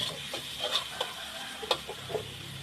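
Pork and onion stir-fried in a pan, with a soft sizzle and scattered clicks of a utensil scraping and stirring, faint and close with no talk.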